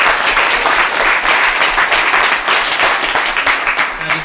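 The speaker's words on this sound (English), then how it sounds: "let's have a round of applause for our panelists" An audience at a mobile games industry panel talk gives a round of applause for the panelists, loud close clapping with a fairly steady, crackling texture throughout.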